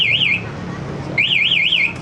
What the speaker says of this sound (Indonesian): Ketika dibobol, alarm akan bunyi keras dan starter nggak bisa seperti ini.